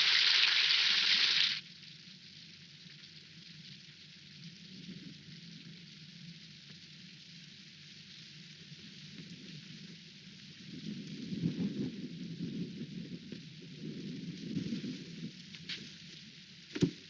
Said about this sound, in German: Nun regnet es wieder.